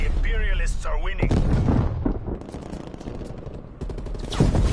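Artillery explosions and rapid gunfire in the Black Ops Cold War video game form a dense, continuous barrage that stays loud throughout, with a person talking over the battle.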